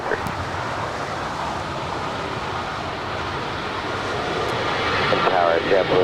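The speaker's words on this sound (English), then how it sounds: "Next departure, American Airlines Flight 2853 heading to Dallas in an A321." An American Airlines A321 airliner takes off at Los Angeles airport, its engines producing a loud, continuous broadband roar that swells slightly toward the end.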